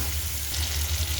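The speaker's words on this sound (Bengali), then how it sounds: "এখানে আমি এখন পেঁয়াজ কুচি ঢেলে দিলাম।" Chopped onion sizzles in a hot pan for beef haleem, a steady close crackling fry with no talking.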